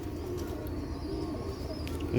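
Pigeons coo softly and continuously over a low background rumble, with a faint bird call near the end.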